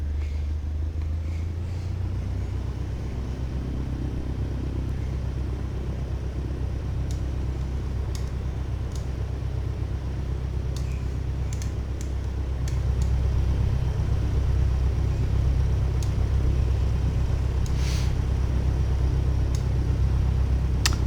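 A Cessna 152 engine idles at 1000 RPM with a steady low rumble and a faint higher whine, constant throughout and growing slightly louder after the midpoint, with a few faint clicks on top.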